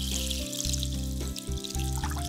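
Water pours steadily into a pot of vegetables for lontong kuah lodeh, making a continuous close splashing gush throughout with no voices.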